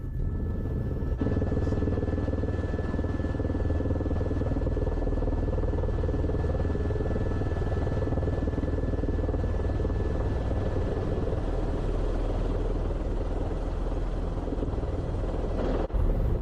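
An H130 T2 helicopter in flight on approach to land at a soccer field, its loud, steady rotor and turbine roar filling the cabin continuously and close by, with no talk.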